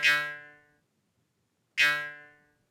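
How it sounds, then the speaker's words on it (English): A South Indian murum, a metal jaw harp, is plucked twice with a clear gap between the notes. Each twang rings out bright and close, then fades over about half a second. "this definitely sounds like a jaw harp of some kind, and this is known as the Murum"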